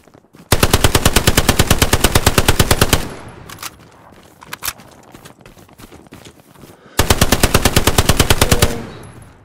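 Loud, rapid machine-gun bursts in the Hell Let Loose video game, one long sustained burst, a stretch of scattered shots, then another long burst, all close and dominant.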